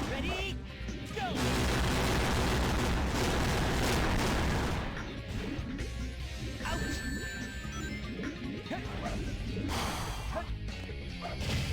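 Loud smashing and crashing impacts from destroying an enemy in Sonic Adventure 2 Battle, with dense game effects and music continuing throughout.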